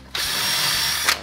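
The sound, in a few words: power drill marking holes through a template in cabinet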